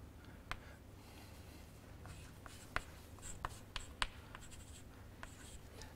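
Marker or chalk scratches and taps across a board as a diagram is drawn, with scattered short strokes and clicks over a faint room hum.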